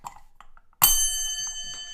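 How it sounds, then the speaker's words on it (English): A bell is struck once, close and loud, ringing out with a bright sustained tone that slowly decays, after some quiet shuffling handling noises. "This bell has been dull lately."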